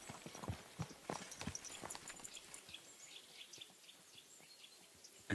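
Horse hooves clip-clop in a video game, a string of close, crisp hoof strikes that slow and fade, with faint birdsong and insect chirps in the background.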